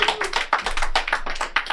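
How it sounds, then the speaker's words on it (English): Comedy club audience clapping for comedian Katie Zane at a live stand-up show, a short burst of dense, steady applause from a small crowd, fairly close and with no talk. "Give her a round of applause."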